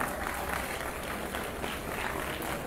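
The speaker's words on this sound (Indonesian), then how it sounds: "Lagi sekali tepukan gemuruh." An audience bursts into sustained applause at a talk, a dense, steady wash of clapping from a large crowd with no gaps and no voices rising above it.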